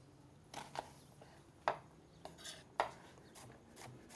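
A knife cuts through an onion on a cutting board while making salsa, giving a handful of sharp, quiet chops at uneven intervals with no talking.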